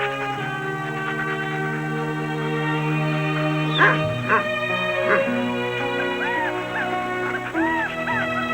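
A hunting dog whimpers and yips near a car before being let out, with high, wavering whines rising and falling and short sharp cries over a low background hum.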